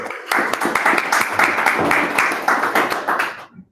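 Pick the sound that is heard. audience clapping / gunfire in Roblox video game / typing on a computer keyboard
audience clapping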